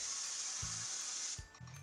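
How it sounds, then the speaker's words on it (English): A can of cooking spray hisses onto a baking pan in one continuous burst of about a second and a half, followed by a couple of soft knocks as the pan is handled. "I'm just going to give my pan a quick spray so it doesn't stick"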